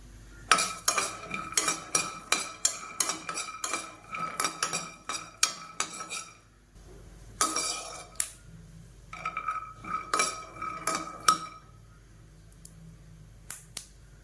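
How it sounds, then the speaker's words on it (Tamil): A handful of peanuts dry roasted lightly in a pan, stirred with a utensil: repeated close scraping and clinking of nuts against metal in busy bursts, with brief pauses between rounds of stirring. "ஃபஸ்ட் நான் ஒரு பேன் எடுத்திருக்கேன் இதில் ஒரு கைப்பிடி அளவு வேர்க்கடலை"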